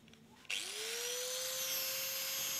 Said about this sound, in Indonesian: kita ratakan saja menggunakan menggunakan gerinda seperti ini teman-teman ya. Kita gerinda saja ya.